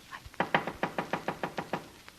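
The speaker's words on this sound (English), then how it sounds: "Wise guy knocking on his own door." A steady run of about nine firm knocks on a door, close and evenly spaced, with no voices over them, in an old radio crime drama.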